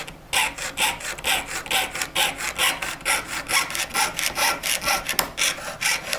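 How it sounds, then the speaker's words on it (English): A fine jewelry saw cuts metal in a steady back-and-forth rhythm, each stroke a bright rasping burst, close and clear with no talking. "and I can resume sawing"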